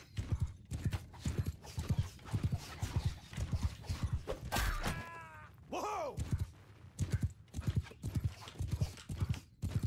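A horse gallops in the video game Mount & Blade 2 Bannerlord, with a fast, rhythmic clip-clop of hooves throughout and a brief neigh partway through.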